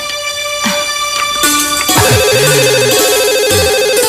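A telephone rings indoors in an Indonesian TV drama with a loud, bright electronic ringtone, its beeping melodic tones repeating in a quick pattern with no talk over them.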